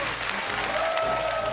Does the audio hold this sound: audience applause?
yes